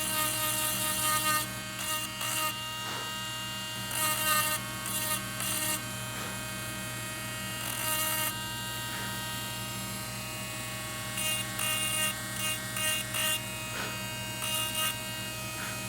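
A rotary tool with a diamond tip carves a rune into stone, a close, high-pitched whine that grinds in repeated bursts, with short quieter gaps between them and no talking.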